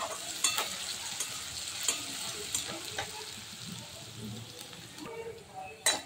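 Finely chopped onion roasting over low gas in a pan, a steady soft sizzle with occasional stirring scrapes and clicks, close by.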